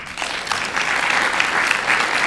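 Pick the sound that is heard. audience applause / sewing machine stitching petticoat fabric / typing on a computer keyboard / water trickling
audience applause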